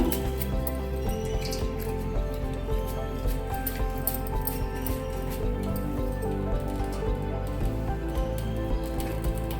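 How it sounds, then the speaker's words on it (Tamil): Water drips and trickles steadily from rinsed vermicelli draining in a strainer, a soft continuous patter close by. "தண்ணி வடிஞ்சிரும்"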